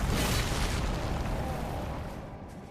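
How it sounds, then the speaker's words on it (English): A deep, sustained rumbling blast that roars steadily and slowly fades, an exploding zombie in Elden Ring, with no voices. "Some of these cells are full of exploding zombies, and you can bait out explosions"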